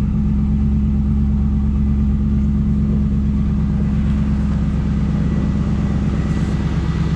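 A 2002 Pontiac SLP Firehawk engine with SLP dual exhaust idles loudly and steadily nearby, a deep rumbling throb that holds constant throughout with no other sounds.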